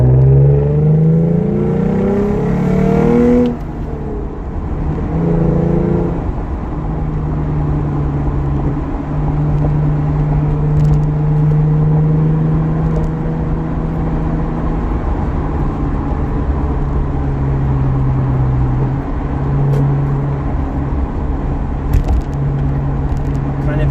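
A 2011 Lexus IS350 AWD pulls onto a highway in second gear, its exhaust giving a steady, deep drone heard from inside the car, with the engine note rising and holding as it accelerates. A voice speaks briefly at the start.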